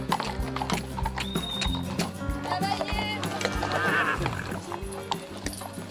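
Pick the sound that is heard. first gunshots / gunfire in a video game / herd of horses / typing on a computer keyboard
herd of horses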